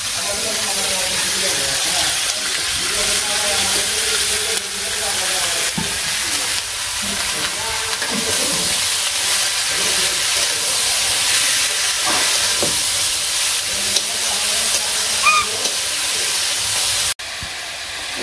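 Hot tempering poured into cooked dal, a steady loud sizzle and hiss holding for the whole stretch, with faint stirring scrapes and occasional clinks of utensils.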